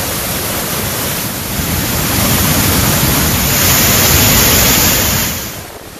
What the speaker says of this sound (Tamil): கோதை ஆற்றில் வெள்ளம் கரைபுரண்டு ஓடுவதால் திற்பரப்பு அருவியில் தடுப்பு வேலிகளை தாண்டி தண்ணீர் ஆர்ப்பரித்து கொட்டுகிறது